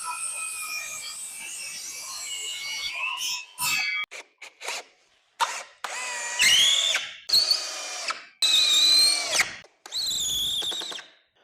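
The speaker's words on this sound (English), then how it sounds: "Then I'm going to use some screws to screw these together" Power drill driving screws into a wooden cross, heard in several short, close, loud whirring bursts that rise in pitch, separated by pauses and small handling clatter.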